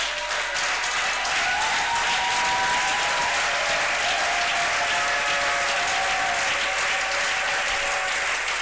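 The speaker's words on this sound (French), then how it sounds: "J'aimerais que chacun de nous se mette debout, qu'il accueille cette parole en acclamant l'Éternel." A congregation at a church service breaks into sustained, dense applause in acclamation of God, loud and steady throughout with no voices standing out above the clapping.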